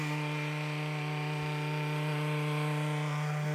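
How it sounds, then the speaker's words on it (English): A 5-inch sander fitted with a white Scotch-Brite surface prep pad buffing a wood finish, giving a loud, steady, close motor whine with a constant tone and faint rubbing underneath. "I'm just gonna take a white polishing pad, like a 3M Scotch-Brite pad. This is a surf prep pad, and I put it on a 5-inch sander."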